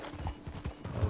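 Horse hooves clip-clop in Red Dead Redemption 2, a quick run of close, uneven thuds on the ground with a faint snort near the end, with no voices over them.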